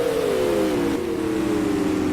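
Supermodified race cars roar past on the front stretch of a night race, one engine's steady drone sliding down in pitch as it passes, loud and continuous.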